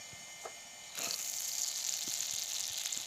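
Mustard oil poured into a hot kerahi wok starts sizzling with a sudden loud hiss that continues steadily, a few faint clinks before it, no voices.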